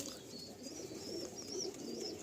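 Kaldam pigeons in a loft give soft, low cooing that repeats in gentle pulses, faint and close, with thin higher chirps over a quiet room hum.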